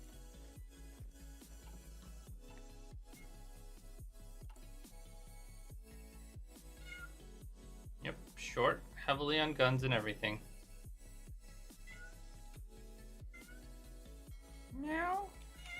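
A pet cat meows in a short run of close, clear cries, then once more a few seconds later, over quiet talk and background game audio.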